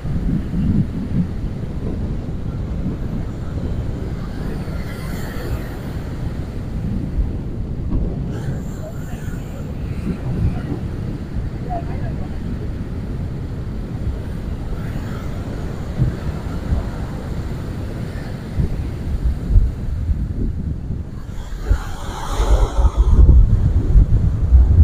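Rough sea at Digha beach at high tide, with continuous crashing surf and heavy wind buffeting the microphone, a loud steady roar with surges from breaking waves.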